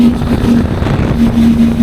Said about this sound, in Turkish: egzoz sesi güzel